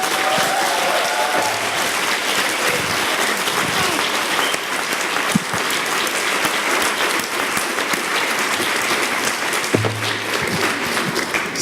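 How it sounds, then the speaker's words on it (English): Loud, sustained applause from a large audience at a university science slam event, dense continuous clapping that fills the whole stretch, with a few scattered voices and cheers mixed in. "they deserve one last massive applause."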